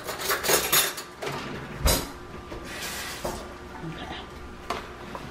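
Someone fetches a spoon in a home kitchen, and several clinks and clatters of cutlery and dishes sound close by. Some of them are sharp knocks. A voice talks at times.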